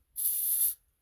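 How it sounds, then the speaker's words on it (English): Aerosol cleaner is sprayed into the intake of a 2012-17 Hyundai/Kia 1.6 GDI engine in a single steady hiss of about half a second, close and loud, with no talk. "spray it into your intake, fog your intake"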